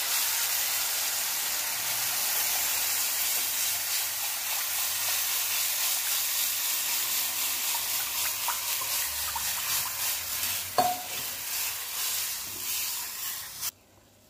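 Buttermilk mixture pouring into a hot pan of fried onion and thecha for Maharashtrian pithla, giving a steady close sizzle and watery hiss that runs nearly unbroken before cutting off.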